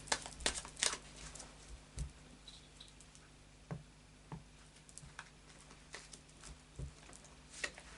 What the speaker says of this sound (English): final shuffle of the Tarot of Dreams